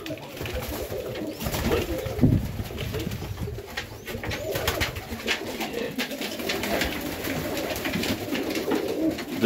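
Highflyer pigeons in a Melbourne, Australia loft coo softly and repeatedly amid rustling and shuffling, with a man's brief word in the mix.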